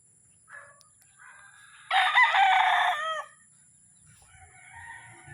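A gamefowl rooster crows once, loud and close, in a breeding area, with softer clucks and distant crowing from other roosters before and after.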